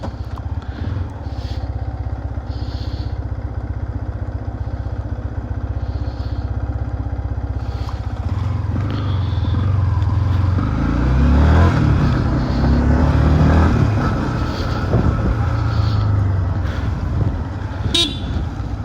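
A Yamaha MT-15 Deluxe TFT motorcycle idles with a low, steady engine rumble, then revs and pulls away with a louder surge; a short horn toot sounds near the end.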